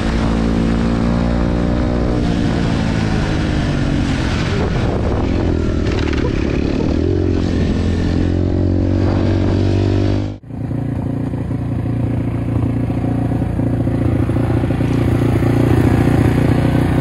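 A motorcycle engine revs loudly and close by during a roadside stop by French gendarmes. It is a continuous heavy drone whose pitch climbs and falls, then cuts out briefly about two-thirds through before resuming steadily.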